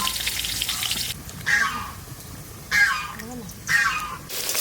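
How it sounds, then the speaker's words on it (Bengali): Potatoes frying in oil with salt, a steady close sizzle interrupted by a few short squawking bird calls in the background. "আলুটা ভাজা ভাজা হয়ে গেছে, এবার তুলে নিচ্ছি"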